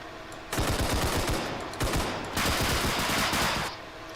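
Rapid automatic gunfire in a shooter video game, two loud, dense bursts of close shots, each lasting over a second, separated by a short pause.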